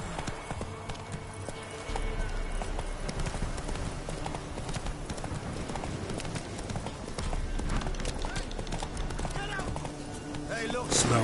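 Horse hooves galloping in The Witcher 3, a fast steady clip-clop drumming under game music and ambience, with a voice speaking over it.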